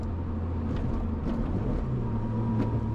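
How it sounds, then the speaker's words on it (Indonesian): A car engine and exhaust drone steadily in third gear, a low, even rumble with road noise heard from inside the cabin at moderate volume, with no talking. "Dan suara knalpotnya tuh bulat gitu"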